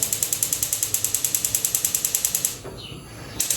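A gas stove igniter clicks in a rapid, steady series of about eight sharp ticks per second for roughly two and a half seconds, then stops as the burner catches with a soft rush. No one speaks.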